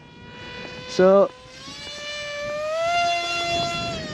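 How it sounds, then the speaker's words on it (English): Stealth-spec model aircraft flying at low, roughly quarter throttle, giving a steady tonal motor whine with harmonics that rises gradually in pitch and loudness, heard with a brief louder chirp early on and a voice speaking over it. "That's now flying hands off, but we are at a very, very low power, about quarter throttle"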